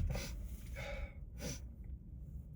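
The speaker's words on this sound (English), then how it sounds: "I apologize for my sniffling." Several short, breathy allergy sniffles through the nose, close and fairly soft, separated by brief pauses.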